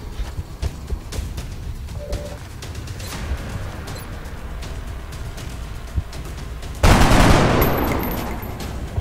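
Gunfire in the XCOM video game: a steady rumbling background builds into a loud, sustained burst of shooting near the end that slowly fades.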